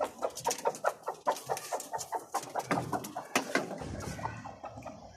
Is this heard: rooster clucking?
yes